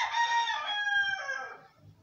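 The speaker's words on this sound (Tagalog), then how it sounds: "Mamaya na muna magsalita tong manok na to." A rooster crows once, close and clear, in a drawn-out cock-a-doodle-doo with a falling tail lasting under two seconds.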